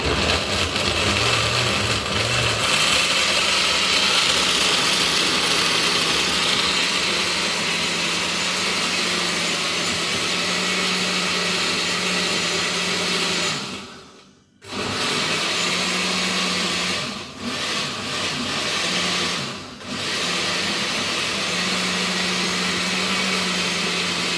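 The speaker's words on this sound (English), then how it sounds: "Coconut in a blender. Ready to spin." A blender whirs steadily as coconut is blended, a loud continuous motor drone that briefly cuts out and restarts a couple of times.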